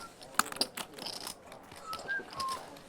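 A man whistles a short tune at a live poker table, with thin, faint notes over quiet room murmur and a few chip clicks.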